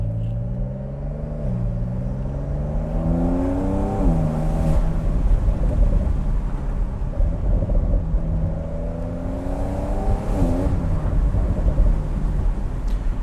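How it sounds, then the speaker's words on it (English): A 2020 Porsche 911 Carrera 4S Cabriolet with sport exhaust driving, its engine note rising and falling through several revving gear changes, a loud, steady, near growl with no talk. "It's got the sport exhaust, and it legitimately sounds really good."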